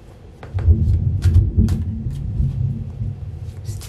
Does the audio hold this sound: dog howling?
no